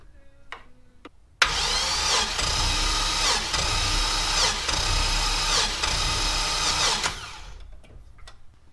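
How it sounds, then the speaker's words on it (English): A big-cam LS V8 engine is cranked over on its starter by jumping a wire to power, giving a loud steady whirring churn with rhythmic compression pulses for about six seconds before cutting off, close by. "I loop onto the starter and then touch it to the power and crank it over"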